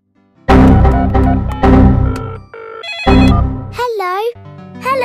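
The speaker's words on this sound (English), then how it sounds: "Would you like to talk to Susie on the phone?" A cartoon telephone in a Peppa Pig episode rings loud and close in three bright, repeated bursts, followed by a short cartoon voice.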